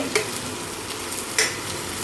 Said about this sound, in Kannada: ಇದು ಗೋಲ್ಡನ್ ಬ್ರೌನ್ ಬರೋ ತನಕ ಫ್ರೈ ಮಾಡ್ಕೋಬೇಕು